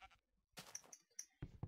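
Minecraft sheep give several short, quiet bleats in quick succession, separated by brief gaps of near silence.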